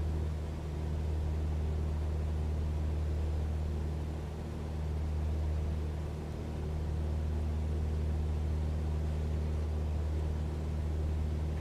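Simulated Cessna 172 single-engine propeller plane droning steadily at about 80% power in Microsoft Flight Simulator 2020, a continuous low hum with a faint rhythmic swell, alone without talk.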